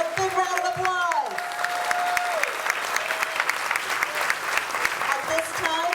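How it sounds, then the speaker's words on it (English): A large audience claps steadily and enthusiastically at an outdoor street-sign unveiling ceremony, dense applause filling the space while a voice briefly speaks or sings over the start. "give a big round of applause"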